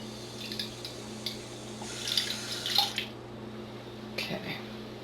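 Water drawn from a kitchen tap fitted with a fluoride filter, faint splashing and trickling in short bursts over a steady mechanical hum, quiet and close.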